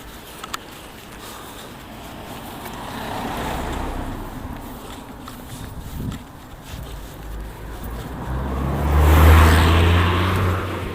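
A Volkswagen Golf passes on a road near Ironbridge Power Station, its engine swelling gradually from a faint rumble to a louder close pass near the end, heard over outdoor ambience.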